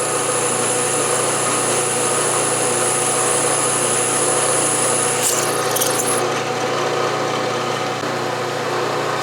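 An 11/64 drill bores all the way through a Stuart steam engine part on a running machine: a steady, loud, continuous motor drone for about nine seconds, shifting slightly partway through.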